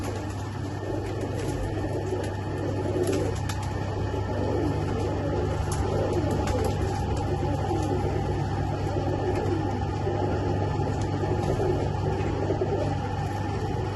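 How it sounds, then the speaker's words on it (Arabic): Soft, steady cooing of recently acquired, unsettled pigeons with occasional faint wing flutters over a constant low background hum. "شويه الطيور ما مستقره، تونا جبناهن"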